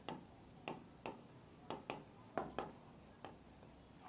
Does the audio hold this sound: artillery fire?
no